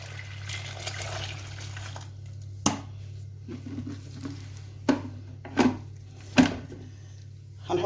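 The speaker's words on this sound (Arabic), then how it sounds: "هنجيب ميه سخنه" Hot water streams into a pot of onions stuffed with minced meat and freekeh in a home kitchen. A steady rushing pour is followed by several clinks and knocks of the pot, fairly quiet and close.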